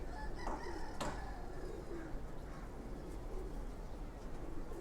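Pigeons coo softly and repeatedly at a home loft, low murmuring calls running steadily through the whole stretch with a few brighter clicks and rustles on top, no talking.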